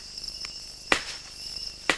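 Two sharp cracks ring out about a second apart, a West African chimpanzee striking a nut on an anvil with a stone hammer, over a steady high chirp of insects in the background.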